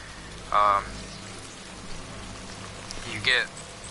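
Steady rain falls across a landscape in the video game Death Stranding, a soft continuous hiss throughout, with two short bursts of louder sound breaking through at the start and near the end.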